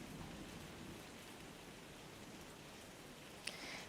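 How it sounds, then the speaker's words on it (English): Rain falls outdoors onto grass in a soft, even patter that stays quiet throughout, with a single faint sharp drop or tap near the end. "The sound of the rain as it started to get stronger."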